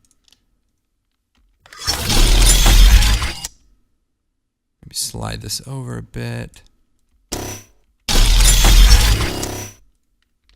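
Metal blade sound effects from the MotionPulse pack: two loud, harsh swooshing metallic bursts with an electric, shattering texture, separated by a short spoken line and a few quicker clicky hits.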